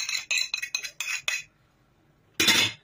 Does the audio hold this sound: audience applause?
no